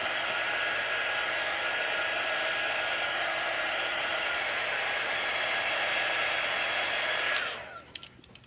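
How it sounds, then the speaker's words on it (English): A large hair dryer blows with a steady, loud whooshing roar for several seconds, then switches off and winds down, leaving a few small handling knocks. "I'm gonna pull out my really big, so this is gonna speed it up for you guys. It's my hair dryer."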